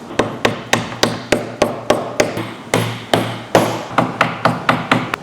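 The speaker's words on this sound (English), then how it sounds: "If you have a mallet or a hammer, that would help." Steady, loud hammer blows, around a dozen and a half evenly spaced sharp knocks, close by with no talking, as bar and galley module parts are hammered into place.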